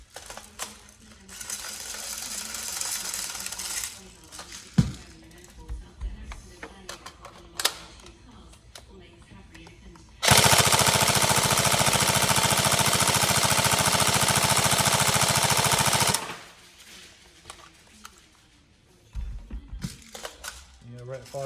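An upgraded Tokyo Marui SCAR L NGRS airsoft electric gun fires a sustained six-second burst, loud and close. It is preceded by scattered mechanical clicks and handling noise, and short clatters follow.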